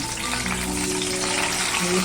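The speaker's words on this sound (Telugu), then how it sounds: "పచ్చిమిరపకాయలు వేస్తున్నామన్నా" Green chillies frying in a pan of oil for a coriander chutney, giving a steady, close sizzle that runs unbroken and fairly loud throughout.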